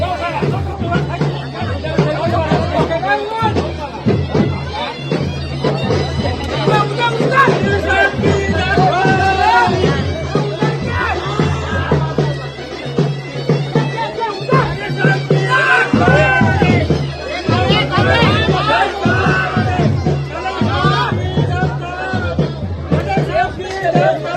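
A dense crowd at a Muharram procession in Line Bazar, Kolhapur, with steady loud babble and overlapping voices filling the space, occasional shouts rising from the throng.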